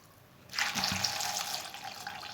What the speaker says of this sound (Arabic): كاش نصبوا لهم الماء كاش نغسلوه مليح